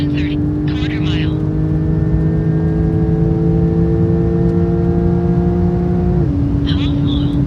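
High-performance cars such as a Porsche 911 Turbo S, GT2RS and McLaren 765LT launch in a quarter-mile drag race, giving a loud, steady engine drone that holds for several seconds, then drops abruptly in pitch near the end.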